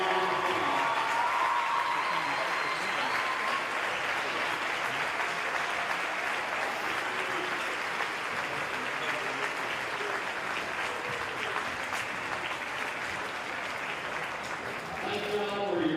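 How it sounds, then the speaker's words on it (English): A standing crowd at a Bell County versus Jackson County school game gives seniors a long round of applause, a dense, sustained roar of clapping and crowd noise that holds steady throughout. "let's please stand and give all these fine seniors a big round of applause"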